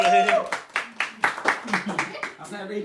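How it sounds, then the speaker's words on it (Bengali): People clapping at a birthday party, a run of about ten separate claps in an uneven rhythm, with voices talking over and between them. "আচ্ছা তালি কই, একটা তালি দেন সবাই।"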